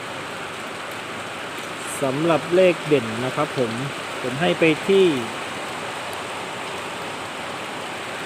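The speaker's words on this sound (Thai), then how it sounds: "อาจจะมีเสียงฝนรบกวนนะครับ" Steady rain falls throughout as a continuous broadband hiss, with someone talking over it in the middle.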